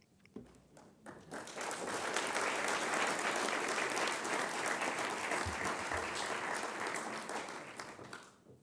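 Sustained audience applause at the National Press Club following a talk by CVS Health CEO Larry J. Merlo, swelling quickly to a dense, steady roar of many hands clapping and fading slightly near the end.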